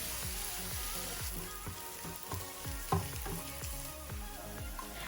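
Chopped onions sizzle in hot oil, crackling steadily, while a spoon stirs them in a regular rhythm, fairly quiet and close.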